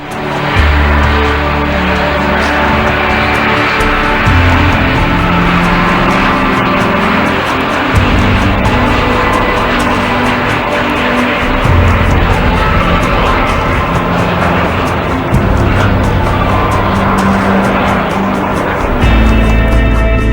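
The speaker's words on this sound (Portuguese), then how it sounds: "Às 16h30, a esquadrilha iniciou a decolagem." Loud, continuous jet engine roar from a squadron of military aircraft taking off for an air show demonstration at Ramstein, a steady dense rumble filling the whole stretch with shifting low tones.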